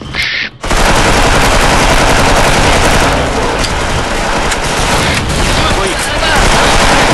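Rapid, loud automatic gunfire from a shooting video game, with sustained bursts layered into a near-continuous fusillade after a short opening, voices faintly mixed underneath.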